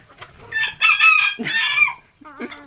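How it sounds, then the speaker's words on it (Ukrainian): Nearby chickens cluck and squawk in a lively jumble, a rooster's strained crow rising among them, with short pauses between calls. "Гарний півник."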